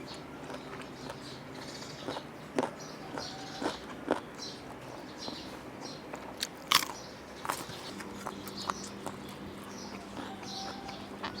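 Close-up chewing of cuttlefish tentacles in papaya salad, with repeated crunchy bites and occasional sharper crackles, steady and unhurried, with no talking.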